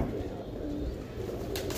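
Racing pigeons coo softly in a loft, a low murmuring warble under steady background noise with a few brief higher rustles near the end.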